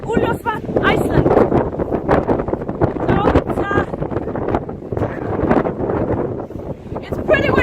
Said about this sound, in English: So, it's pretty windy, as you can see.